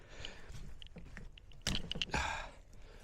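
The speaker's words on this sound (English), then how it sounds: "that's the dust seal finally levered out of the way" Faint scraping, creaking and small clicks as a screwdriver levers a cracked old fork dust seal out of a Suzuki GSX 750 motorcycle fork, with two louder grinding bursts near the end.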